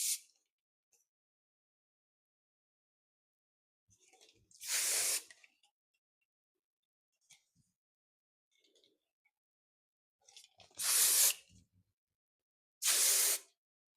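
Hairspray can sprayed onto bridesmaid glam waves, three short bursts of hiss with quiet pauses and faint handling between them, close and fairly loud.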